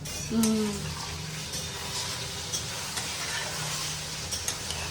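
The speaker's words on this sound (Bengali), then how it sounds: "এবার আমি এটাকে একটু নাড়িয়ে দেবো, গ্যাসটা বাড়িয়ে দিলাম।" Food being stirred in a pan over a gas flame, with a steady sizzle and spatula scrapes close by, a short louder scrape near the start.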